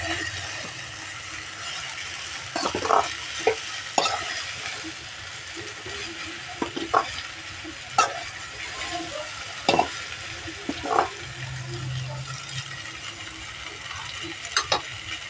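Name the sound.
okra being stirred and fried in a pan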